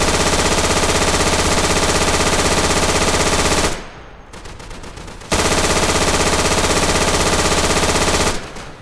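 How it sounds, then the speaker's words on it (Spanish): Sustained machine gun suppressive fire in Day of Infamy on a Dunkirk invasion map: long, loud, unbroken bursts of rapid automatic shots, cut by a brief pause and then resumed, with no speech. "Disparos de supresión."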